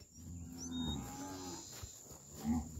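Cattle moo close by during a vaccination day at a farm, with two clear low bellows, one early and one near the end.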